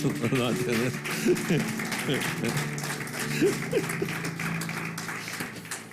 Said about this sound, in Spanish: Denle un aplauso a eso.